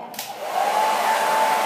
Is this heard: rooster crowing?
no